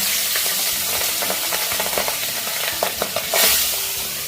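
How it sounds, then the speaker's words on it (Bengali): Pabda fish frying loudly in hot oil in a pan, a dense steady sizzle with scattered crackles and spits, and a brief surge of spattering near the end; no one speaks. "তেল খুব ভালো করে গরম হয়ে গেছে এবার আমি মাছগুলো দিয়ে দেব"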